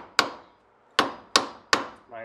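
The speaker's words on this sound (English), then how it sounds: "Nice steel chisel like that will help you a lot, and just whacking around the top and sides here just to crack it loose" Steel chisel struck with a hammer to crack loose a wheel bearing on a Jeep Grand Cherokee, four sharp, close metallic strikes at uneven intervals, each ringing briefly before fading.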